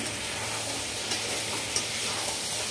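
Mutton kosha, browned meat with its oil released, is stirred in a pan over a dense, steady sizzle, with a few light utensil touches on top, close and continuous, no voices.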